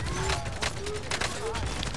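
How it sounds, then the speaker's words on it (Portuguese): Gunfire in a Call of Duty: Modern Warfare multiplayer match crackles in quick bursts and scattered shots, fairly faint and steady throughout, mixed with game sounds and excited players' voices. "Tô tomando tiro!"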